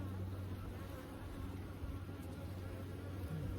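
A steady, close hum of many honey bees buzzing together on a comb in a Layens hive, continuous and even throughout.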